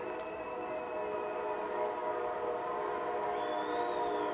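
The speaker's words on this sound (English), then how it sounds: "Train making sure everyone knows it's here." A passing train sounds its horn in a long, sustained multi-tone blast that rises and holds near a baseball field during a women's professional game, carrying over the low rumble of the rail cars, with no talk.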